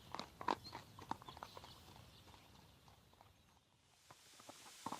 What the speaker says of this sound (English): Lidenbrock and Axel are on horses